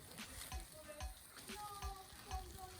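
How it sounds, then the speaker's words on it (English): Fish frying in oil in a pot, a steady broadband sizzle with bursts of stirring and several low utensil knocks, close and fairly quiet throughout. "to fry the fish"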